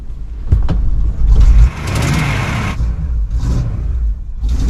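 The 5.8-liter 351 V8 of a 1995 Ford one-ton pickup cranks, sputters, then roars to life with a loud rev and keeps running with a rough idle, close by.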